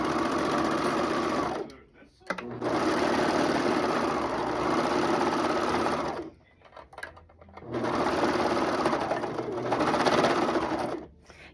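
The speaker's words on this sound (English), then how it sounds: "Now we're going to go serge it." A serger overlock sewing machine stitches fabric for relaxation pants in three loud, sustained runs with short pauses between, with a voice speaking underneath.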